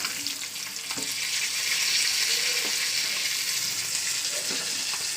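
Fish fillets frying in a little oil give off a steady, bright sizzle that fills the whole clip, close and even, with a few soft knocks from the pan.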